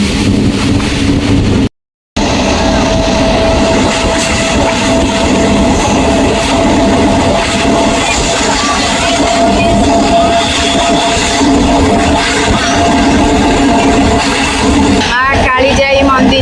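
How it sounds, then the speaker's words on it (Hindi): Passenger train running on rails with a steady loud rumble and rolling clatter throughout, briefly cut out near the start, with a squealing screech toward the end. "फाइनाली आम ट्रेन रे बसीगलु एवं भुवनेश्वर चलिलु।"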